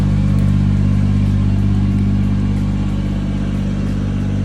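A loaded gravel delivery truck stuck in a rut at a ranch revs its engine with a steady, heavy low drone that holds loud and close throughout, with no voices over it.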